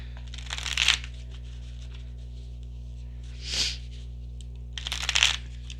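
Tarot cards being shuffled and drawn, heard as three short crisp riffling bursts with quiet pauses between them, close and alone over a steady low background hum.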